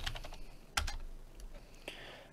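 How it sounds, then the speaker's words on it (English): Keys tapped on a computer keyboard while entering a name into a blueprint structure in Unreal Engine 4: a few soft, scattered clicks with a sharper hit near the start, quiet and close, with no speech. "here I'm going to type in armor"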